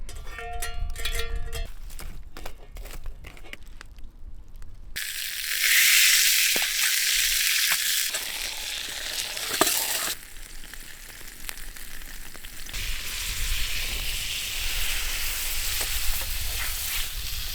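Steak sizzling and frying over a campfire at a winter bushcraft camp, with a steady loud hiss and crackle that runs nearly the whole time after a few early knocks and clinks, with no talking.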